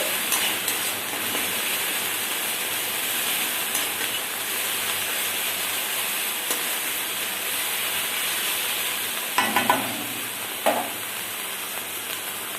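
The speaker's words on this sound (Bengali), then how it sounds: "গরম তেলে দিয়ে দিলাম পেঁয়াজ রসুন পেস্ট করা। পেঁয়াজ রসুন পেস্ট করা আমি ভালো করে কষিয়ে নিচ্ছি।" Onion and garlic paste frying in hot oil gives a continuous close hiss and sizzle, with occasional stirring scrapes and a couple of brief louder knocks near the end, no talking.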